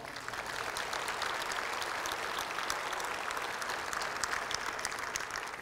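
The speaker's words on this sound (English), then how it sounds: "offer these state officials a big round of applause" Steady, sustained applause from a large crowd for state officials at a chamber of commerce annual meeting and awards event, heard fairly distant and even throughout with no talk over it.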